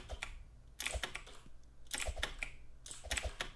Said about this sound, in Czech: Teď lidi uslyšíte jenom zvuk maky klávesnice. A vaškový klávesnice.